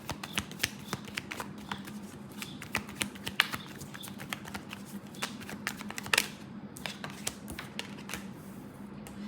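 Tarot cards are shuffled and drawn, producing rapid irregular riffling clicks and soft snaps close to the microphone, with a sharper burst midway through and no voices.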